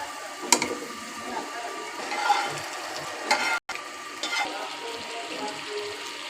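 Catla fish pieces frying in a pan with tomato and onion for a do pyaza, a continuous close sizzle broken by stirring clatters and a brief cut partway through.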